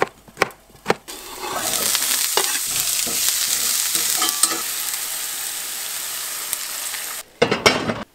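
Broccolini and yellow summer squash hit a hot pot in a one-pot meal, setting off a loud, sustained sizzle that follows a few wooden knocks and clatters, then ends with more handling clatter near the end; no talking.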